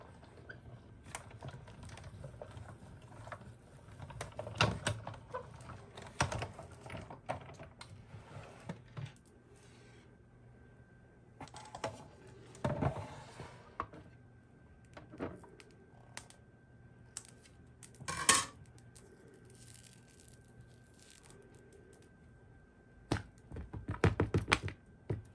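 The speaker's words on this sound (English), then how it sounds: "then you're just gonna run that through the machine" A manual die-cutting and embossing machine feeds a clear cutting plate sandwich through, giving irregular clicking, ratcheting mechanical noise in bursts with pauses in between, close and moderately loud.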